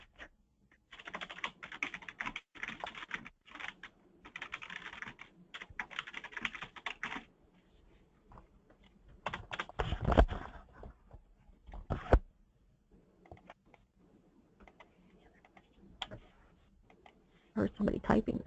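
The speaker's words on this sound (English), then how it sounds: "I heard somebody typing though." Quick bursts of computer keyboard typing click in and out during a webinar on rural transit systems, faint and fairly close, with pauses between runs of keystrokes and speech heard too.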